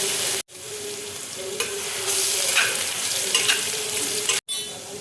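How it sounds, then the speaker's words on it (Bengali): Dried red chilli, whole cumin and chopped ginger hitting hot oil, setting off a loud, dense sizzle that carries on steadily, broken by two abrupt short silences. "এবার দেখো শুকনো লঙ্কা আমি ফোড়ন দিয়ে দিচ্ছি, গোটা জিরে দেখো দিয়ে দিচ্ছি, আদা কুচি দেখো দিয়ে দিচ্ছি"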